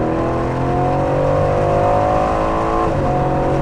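Aston Martin Vantage engine revving high with turbos spooling, a loud, sustained mechanical roar with rising tones held steadily through the whole stretch, no voices over it.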